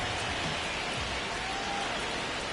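Steady rain falls over a baseball field in MLB 26, a constant broadband hiss of drops filling the whole stretch at an even level, with no voices over it.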